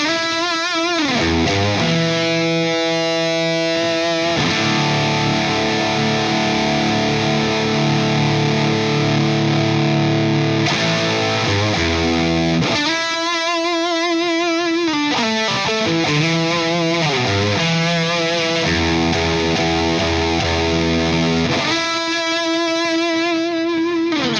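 Thick, fuzzy distorted electric guitar through a Wampler Cryptid fuzz pedal plays sustained chords and riffs with heavy saturation, loud and continuous, with brief shifts in tone.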